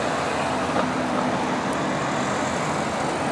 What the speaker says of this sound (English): Car make noise.